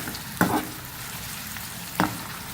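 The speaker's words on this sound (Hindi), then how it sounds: "प्याज को हम मीडियम फ्लेम पर फ्राई कर रहे हैं" Onions frying in oil over a medium flame, a steady close sizzle with two brief louder stirring scrapes, no talking.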